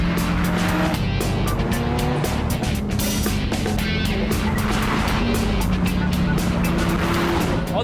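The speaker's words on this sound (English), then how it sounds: "On the move in an F40 Ferrari." A 16-year-old Ferrari F40 with a twin-turbo 3-litre V8 on the move, its engine roaring loud and constant throughout, with shifting pitch as it pulls through the gears and occasional tire noise.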